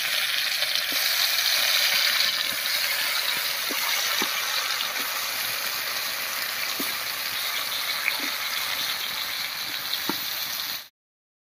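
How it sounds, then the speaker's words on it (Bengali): Pumpkin pieces fry in hot oil with a loud, dense sizzle and scattered small pops, holding steady until it cuts off abruptly at the end. "একইভাবে বাকিগুলো ভেজে নিচ্ছি।"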